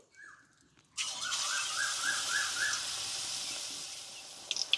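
Battered shiuli (night jasmine) leaves hit hot oil and set off a sudden loud, steady sizzle that fills the rest of the clip, with faint squeaky bubbling tones near the start.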